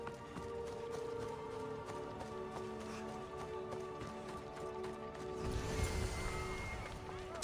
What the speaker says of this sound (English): Horse in here just wreaking havoc.